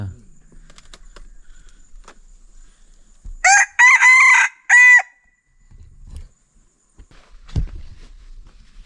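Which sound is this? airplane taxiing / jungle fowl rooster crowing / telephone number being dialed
jungle fowl rooster crowing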